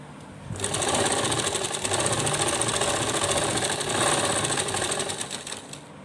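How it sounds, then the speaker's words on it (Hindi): A sewing machine runs a straight stitch to attach gota lace trim onto a small doll dress. The rapid, even mechanical chatter starts abruptly, runs loud and close for about five seconds, then stops. "इस तरह से एक सीधी सिलाई लगा देनी है"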